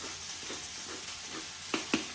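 Spicy peanut sauce being stirred in a pot, with a low steady sizzle underneath and two sharp clinks of the utensil near the end; fairly quiet and close, no talking.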